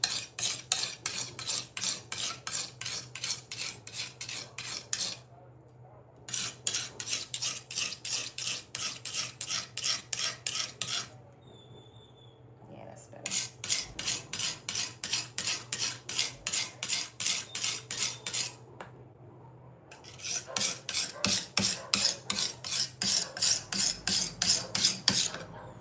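Rhythmic rasping strokes of a kitchen knife being sharpened, loud and close, in several quick bursts of repeated scrapes separated by short pauses, with no talk.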